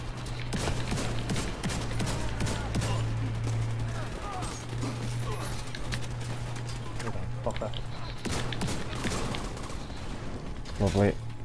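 Shotgun blasts and other weapon fire in The Division, scattered sharp shots over a steady hum and busy combat noise, with people talking throughout.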